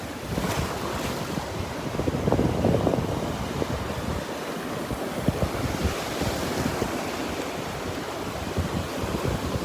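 Gulf of Mexico waves break and wash onto the beach at Delnor-Wiggins, Florida, a continuous rushing roar with gusts of wind buffeting the microphone.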